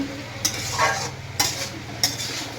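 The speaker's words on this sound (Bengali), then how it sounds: "লাউ যত কষাবেন তত মনের মতো গলে যাবে" Bottle gourd being sautéed in a pan for a taki fish curry, with three sharp scraping stirs of a spatula over a steady sizzle and a low hum, no talking.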